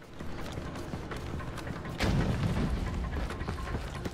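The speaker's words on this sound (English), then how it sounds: "Oh, I got him with the grenade." A grenade explodes in the shooter video game Resident Evil: Operation Raccoon City, a sudden loud broadband boom midway through that rolls on as a rumble over continuous gunfire and combat noise.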